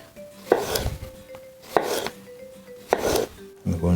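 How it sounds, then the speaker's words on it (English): A knife slices a cucumber thinly at a slight angle on a cutting board, giving three clear bursts of quick, crisp chopping strokes close by, with short pauses between them and no talking. "I like to slice very thinly."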